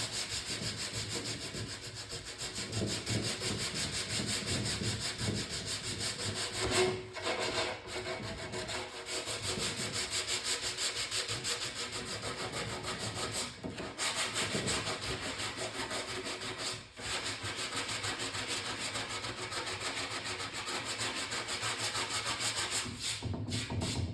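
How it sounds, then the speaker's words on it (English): Continuous steady rasping of hand sanding on metal motorcycle bodywork, brisk back-and-forth strokes with a few brief pauses, close up and with no talking. "I'm going to keep sanding this and then I'll be back."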